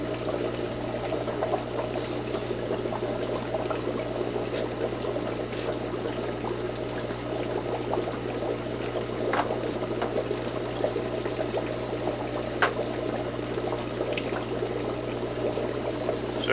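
Water flows and trickles steadily through a Santa Monica Filtration SURF4 UAS filter, with a constant low hum and occasional faint splashes over the steady stream.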